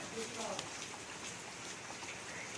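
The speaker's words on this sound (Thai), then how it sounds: "บรรยากาศฝนตกนะคะ" Rain falls steadily at a temple on a cold day, a broad constant wash of drops that stays even and close, with no distinct voices standing out.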